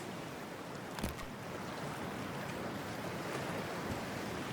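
In Cyberpunk 2077, a character wades into cold water, with steady washing surf and wind-like rushing all the way through and a brief splash near the start, no voices.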